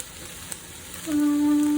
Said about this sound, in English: so just use a wooden spoon and scrape up all the bits, and it will get incorporated into the wine